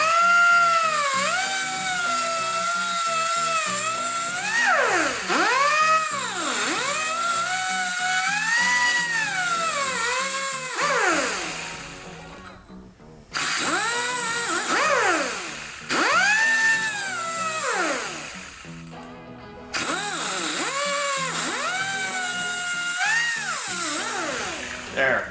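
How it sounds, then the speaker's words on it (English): Tubing cutter working through a piece of tubing, giving a long, close, rhythmic metallic squealing grind that pulses with each turn, broken by brief pauses between passes. "just keep cutting through it with the tubing cutter"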